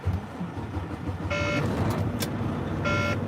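Warning beep inside a running truck, caused by a slow air leak up front, sounding as two short bursts of bright repeated electronic tones about a second and a half apart over a steady idling engine rumble.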